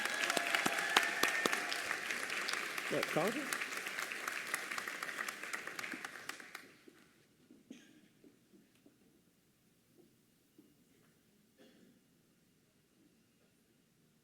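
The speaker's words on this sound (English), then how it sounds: "Can we give her applause here?" Audience applause at a convocation ceremony, a dense wash of clapping for about six and a half seconds that then stops abruptly, leaving a quiet room with a few stray claps and a brief spoken word.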